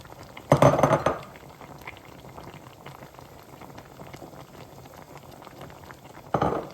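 Mixed vegetables bubble steadily in a pot as leafy greens (nali shak) are added, with a loud clatter of a utensil against the pot near the start and again at the end.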